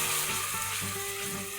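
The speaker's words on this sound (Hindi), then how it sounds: "सबको अच्छे से भूनना है जब तक हमारा कांदा लाल ना हो जाए तब तक" Onion, curry leaves and green chilies fry in a pan for Maharashtrian masala bhaat, making a short burst of close, continuous sizzling.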